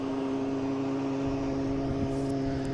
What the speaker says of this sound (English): We have Virgin Atlantic coming in right to us from London Heathrow.